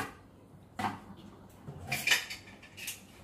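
Plates and dishes clatter into a dishwasher rack, a few separate clinks and knocks of ceramic and cutlery spread over a few seconds, moderately close and fairly quiet.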